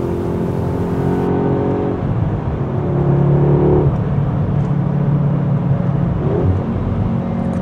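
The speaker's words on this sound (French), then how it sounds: "Écoutez cette sonorité à l'échappement," A new Audi A3 S accelerates hard from inside the cabin, its exhaust giving a steady, loud engine drone that rises in pitch through the gears with a brief shift, continuous road and wind noise beneath.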